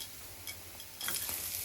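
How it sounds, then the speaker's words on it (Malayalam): Chopped garlic sautés in oil over a medium flame, a faint steady sizzle that rises slightly near the end with a few soft stirring touches. "പിന്നെ വെളുത്തുള്ളി ഒരു 5 കഷ്ണം ചെറുതായി നുറുക്കിയത് ഇടുക. അത് ഒരു ലൈറ്റ് ബ്രൗൺ ആവുന്ന വരെ സോട്ട് ചെയ്യുക."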